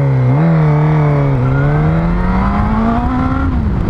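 A car engine revving and accelerating hard from a traffic light, its rising harmonic whine loud and close, climbing in pitch with a brief dip as it shifts, no voices over it.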